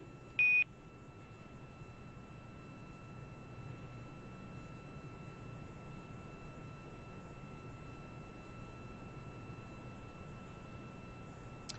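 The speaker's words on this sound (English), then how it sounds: "those beeps are Quindar tones, and that is the core or the crew operations resource engineer communicating to the astronauts" Quindar tone beep in NASA crew communications during the SpaceX Crew-1 mission, one short bright beep near the start and a faint one at the end over steady low hiss and hum of the radio loop.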